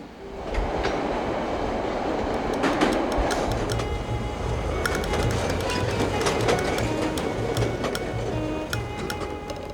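A Chicago Red Line subway train running beneath State Street, loud steady rumble with rhythmic clickety-clack of wheels and sharp metallic squeals, continuous and close throughout.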